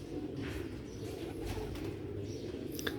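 Old Sialkoti rooftop pigeons cooing softly over a steady low rumble, with a few faint chirps and rustles near the end.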